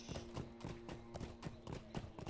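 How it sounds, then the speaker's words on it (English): Horse hooves clip-clop in the Lord of the Rings Online video game, a steady galloping rhythm of repeated thuds at close range with a sustained musical tone underneath and no talk. "to cautiously get on my horse"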